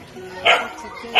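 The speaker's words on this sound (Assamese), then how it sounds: "আমাৰ টুকটুকে পুৰা ভুকি আছে" A pet dog barks twice, sharp and close, with a pause between the barks and a quiet background.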